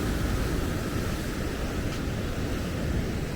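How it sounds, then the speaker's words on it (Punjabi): Floodwater rushes at Harike Pattan with nearly all the barrage gates open. It makes a steady, loud, broadband roar like heavy surf, continuous with no breaks. "ਪਾਣੀ ਵਹਿ ਹੀ ਬਹੁਤ ਤੇਜ਼ੀ ਤੇਜ਼ੀ ਨਾਲ ਰਿਹਾ ਬਾਈ ਐਤਕੀ ਤਾਂ"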